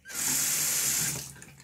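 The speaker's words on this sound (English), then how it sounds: "Yes, there's a sink right next to me." Tap water runs steadily into a bathroom sink beside someone about to brush their teeth, a continuous hiss that starts abruptly, holds close and loud, then tapers off.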